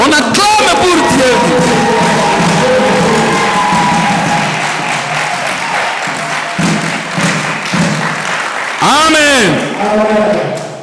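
Church congregation at the official opening of a church in Stockholm applauding and cheering: loud, continuous clapping with whoops and shouted voices, plus a swell of excited cheering near the end.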